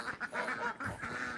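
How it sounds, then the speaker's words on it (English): Geese on a pond give a short run of nasal honks and quacking calls, several in quick succession, fairly faint and distant. "Let me just get the camera back on the geese now."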